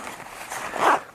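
A short zipper pull closing the inner pocket of a bag, one quick close rasp swelling near the end.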